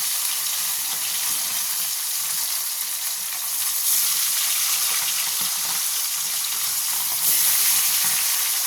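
Fish frying in hot oil, a dense continuous close-up sizzle with a steady, even hiss that swells slightly louder in two spots, no voices over it.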